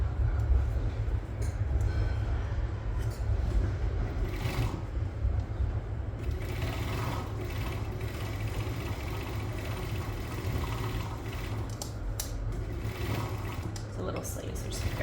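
An overlocker serges the sleeve seam of a child's T-shirt, a continuous fast motor whir and needle chatter that stays close and steady throughout.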